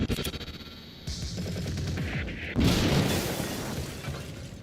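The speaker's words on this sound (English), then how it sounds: "Wow, that explosion was worse than I thought it was gonna" A video game explosion from Quantum Break bursts in as a broad, loud roar about midway, following scattered gunfire-like pops and mechanical clatter, then rumbles on with noisy debris.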